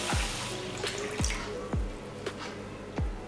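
Water poured into a kadhai with sugar for syrup, a steady close splashing and trickling with several distinct plops and drips spaced roughly half a second apart.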